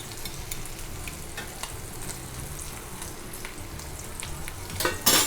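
Potato pieces seasoned with salt and red chilli powder sizzle softly in a pan, with faint scraping and stirring and a louder clatter near the end. No one speaks.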